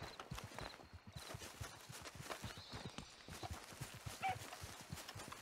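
A horse gallops in Red Dead Redemption 2, fast rhythmic clip-clop of hooves pounding steadily throughout, close and continuous with a brief snort near the end.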